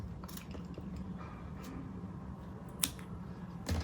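Scissors snip through crochet yarn while a star headpiece is being made, giving a single sharp close cut among faint handling rustles and small clicks in a quiet room.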